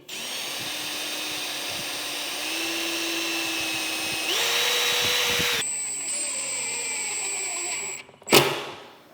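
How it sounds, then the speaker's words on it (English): A power drill whirs steadily while drilling pilot holes and driving screws in a porcelain shower repair, its pitch stepping up as it speeds, then winds down; after a pause a brief loud burst and rattle follow. "Pilot drill, a couple screws, good as new."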